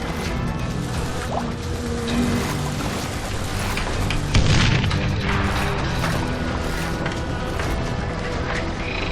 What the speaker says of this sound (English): You can't hide from dynamite.